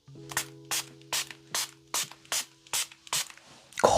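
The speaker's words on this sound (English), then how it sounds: "I've got to spray it with my left hand" Makeup setting spray from a drugstore beauty range, held in the left hand, gives eight short, evenly spaced hissing spray bursts close to the listener, a quiet tone running beneath, with no talking.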